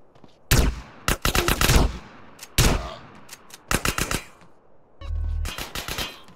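Tech 9 or micro SMG gunfire in GTA San Andreas, loud rapid automatic bursts of varying length separated by short pauses, close and punchy, with a ringing low thump near the end.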